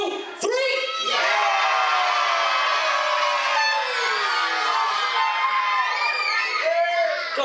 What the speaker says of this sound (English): I want to hear the biggest cheer possible to support these good guys in the ring